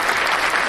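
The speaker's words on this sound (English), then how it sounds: "round of applause for that" Applause from a live show audience, a dense steady wash of clapping filling the short moment, loud and close, with no talk over it.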